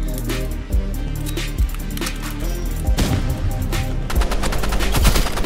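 Rapid pistol fire in Roblox Rivals crackles in quick bursts over a busy game soundtrack, with shots growing denser toward the end.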